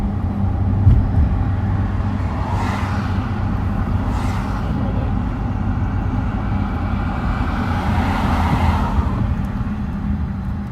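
On a city street by Lake Como, a steady low road rumble fills the scene while a few vehicles swish past, the last passing car loudest, all fairly close with no voices.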